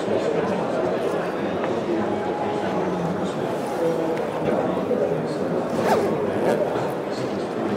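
Zipper being drawn shut on a portable negative-pressure isolation carrier holding a patient, a rasping pull under steady crowd noise and nearby talk.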